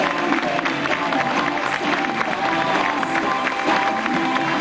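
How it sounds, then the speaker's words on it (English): Sustained applause and cheering from an audience at a 1998 school fashion show in Bandon, County Cork, Ireland, dense and steady throughout. "Give her a big round of applause"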